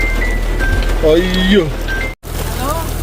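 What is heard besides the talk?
heavy rain during summer in Dubai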